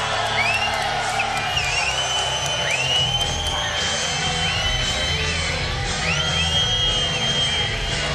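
A partisan arena crowd at a kickboxing event cheers, whoops and whistles for a fighter's ring entrance, a loud continuous swell of yelling with rising whistles, while a commentator talks over it.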